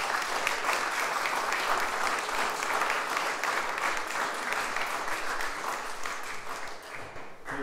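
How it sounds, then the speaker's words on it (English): A church congregation at Torteval applauds the youth group after their service, a sustained and even round of clapping that holds for several seconds before tapering off near the end. "Give them a round of applause, you think?"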